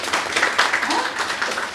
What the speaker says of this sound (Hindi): की ये तालियां हो जाएं